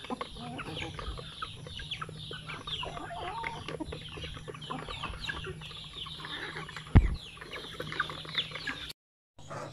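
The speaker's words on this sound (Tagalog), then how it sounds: "So dito yung ating mga shamo. Yan, ang dami nila, malalaki." A flock of large shamo gamecocks on a chicken farm clucks and chatters continuously, with many birds close by, one loud sharp noise near the end and a short drop to silence just before the finish.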